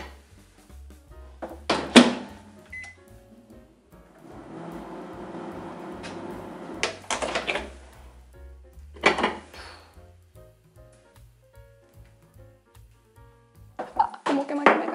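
A microwave oven runs while a brownie cooks inside, a steady soft hum in the middle broken by clattering dishes, a door clunk and occasional coughing or kitchen knocks.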